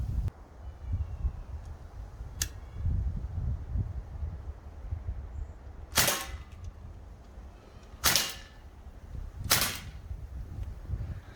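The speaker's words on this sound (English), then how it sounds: "Let's fire a few shots." Sig Sauer MCX CO2 air rifle firing four sharp, loud shots at uneven intervals outdoors, each a crisp crack over a low rumbling wind-like background.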